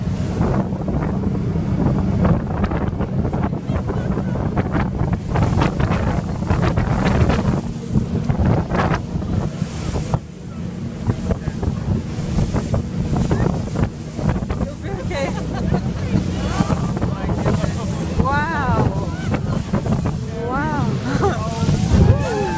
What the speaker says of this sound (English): Oh my goodness, those choppy waves.